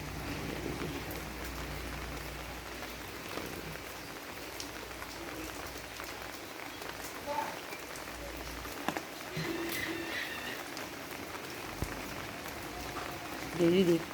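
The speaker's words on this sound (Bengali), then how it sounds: "এই যে বৃষ্টি পড়ছে, মা দেখছে" Steady rain falls throughout, a continuous soft hiss of drops with faint scattered taps, moderately quiet and unbroken.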